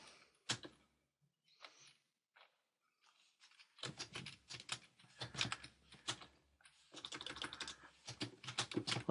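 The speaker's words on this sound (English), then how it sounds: "I'll just type this one in." Typing on a computer keyboard: bursts of quick, light key clicks separated by short pauses, close and fairly quiet, growing denser and steadier toward the end.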